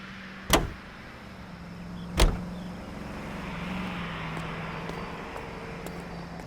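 Car driving in the video game LA Noire: a steady low engine drone runs throughout, broken early by two sharp loud thumps, like a door closing, before the motor hums on alone.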